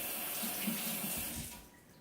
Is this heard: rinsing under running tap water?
yes